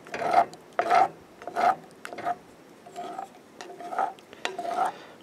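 A spoon scrapes and stirs a thick soft black licorice candy mixture in a pot, about eight distinct rasping strokes in an uneven rhythm, close and moderately loud with no voices.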